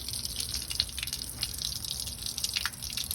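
Coolant pouring out of an open engine block plug on a 7.3 Powerstroke diesel, a steady trickling, splashing stream of liquid with small drips, continuous and close, no talking.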